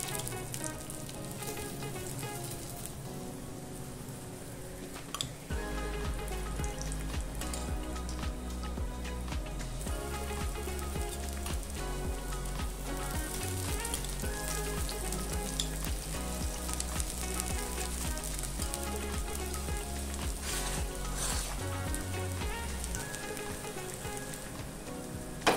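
Radish paratha frying in oil or ghee on a hot pan gives a steady, close, continuous sizzle with crackling spatter that runs unbroken for the whole stretch, with no voices.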